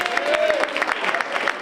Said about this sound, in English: Let's give Mayor Rich Strand a round of applause.